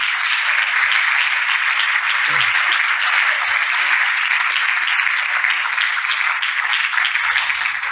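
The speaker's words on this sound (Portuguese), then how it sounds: "Damos um aplauso ao Senhor." A church congregation applauds in praise after a closing prayer, a steady dense wash of many hands clapping throughout, fairly loud and continuous, with a brief low murmur near the end.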